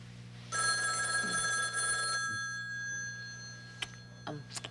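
A telephone rings indoors with a bright metallic bell trill lasting under two seconds, then falls silent, leaving a low background hum and a few faint clicks and taps.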